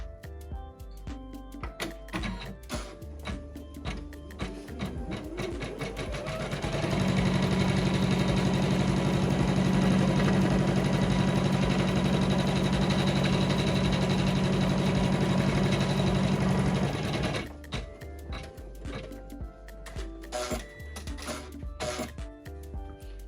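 A Janome 500E embroidery machine stitches a placement outline onto stabilizer for an in-the-hoop Christmas ornament, a steady loud mechanical whir with a fast needle rhythm running for about ten seconds, with quieter handling noises before and after.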